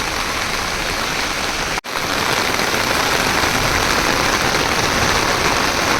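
Steady, dense rain pours down in the Konkan with a constant hiss and patter, broken by a split-second dropout; no voices.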